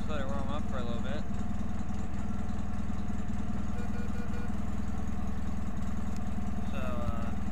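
A tractor engine idles steadily while warming up before mowing, a continuous low rumble running throughout with faint higher tonal sounds at the start and end.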